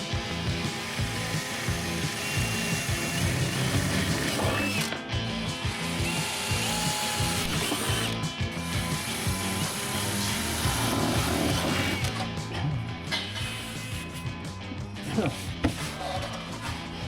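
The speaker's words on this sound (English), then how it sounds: "So I've got to drill them first, decore it, so get rid of that foam" A power drill bores bolt holes into a foam-cored catamaran hull, whirring loudly and steadily in repeated bursts of drilling, with a person talking occasionally over the tool.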